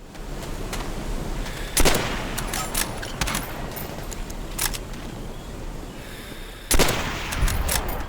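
Gunfire from a Kar98k scoped sniper rifle in the video game Call of Duty: World at War: a few sharp, loud single reports spaced seconds apart, each with a ringing tail over a constant battlefield din.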